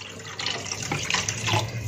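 Water poured into a soup pot, a brief continuous splashing pour heard close up.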